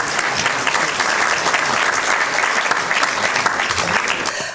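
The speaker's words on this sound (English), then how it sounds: "a round of applause" Steady, dense applause from a lecture audience welcoming a speaker, sustained at an even level throughout with no talk over it.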